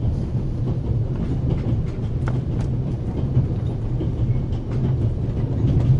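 Orient Express train running in The Raven game, a steady loud rail rumble with low clickety-clack rhythm and metallic rattles, heard alone without talk.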